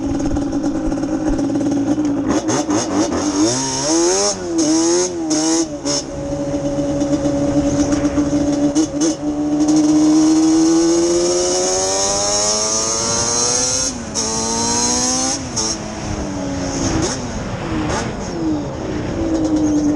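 A 397cc Banshee ATV two-stroke engine screams through hard riding runs, loud and close, with repeated rising revs through the gears, brief throttle chops and a steady high-pitched wail throughout, no talking.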